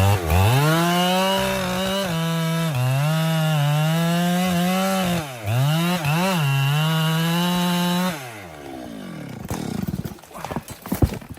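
A chainsaw engine roars and revs up and down steadily, then cuts into a large tree in a forest with rougher, uneven grinding near the end.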